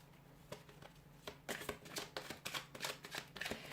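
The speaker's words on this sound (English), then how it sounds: "I'll give the cards a shuffle" A deck of tarot cards is shuffled close by, making a string of soft riffling, flapping bursts that grow busier midway through, with no speech over them.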